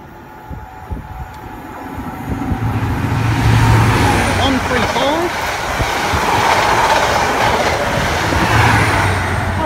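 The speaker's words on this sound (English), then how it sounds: "HST passing platform number 1." A Class 43 HST high speed train passes a platform at Ealing Broadway station, a loud sustained roar and rumble that swells quickly and holds steady close by, with brief squeals and a platform announcement voice early on.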